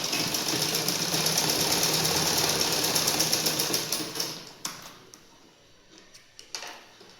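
A sewing machine runs steadily as it stitches elastic onto underwear with a quarter-inch seam, its rapid mechanical chatter continuous for about four seconds before breaking into a few short stops and restarts.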